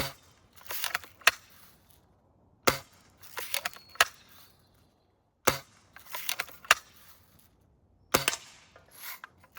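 A Western Justice Lil' Sure Shot toy gun fires at a target, giving sharp, close cap-gun-like snaps in short bursts separated by pauses, with faint rasping handling sounds between shots.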